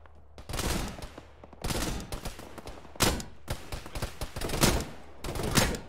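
Gunfire from friendly units in a tactical military video game, heard as bursts of rapid automatic fire and volleys in several clusters, loud and close with brief pauses between.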